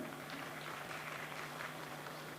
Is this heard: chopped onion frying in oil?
no